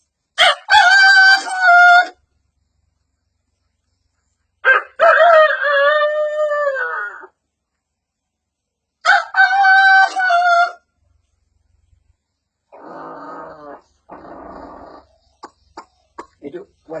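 A voice imitates roosters crowing at dawn, three long drawn-out loud crows separated by pauses, followed by softer clucking and short clipped calls near the end.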